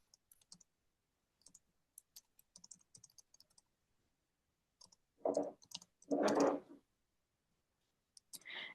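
Sparse keyboard clicks from typing an email on a computer keyboard, irregular taps close by, then two louder broadband bursts of rustling or shuffling, with more clicks at the end; no talk.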